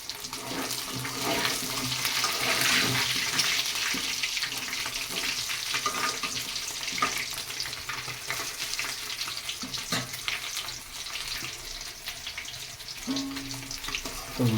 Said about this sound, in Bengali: বাকি মাছগুলো সব ভেজে নেবো